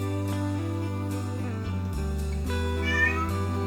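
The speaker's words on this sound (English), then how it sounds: "If you do hear some now in the background, that is one of our cats." A pet cat meows in the background of an indoor room, drawn-out and wavering against a steady tonal hum.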